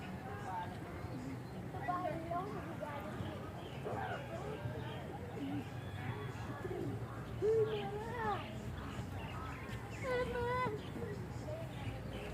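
Pigeons cooing inside a pigeon house, soft repeated warbling coos scattered throughout at moderate distance, with people talking faintly in the background.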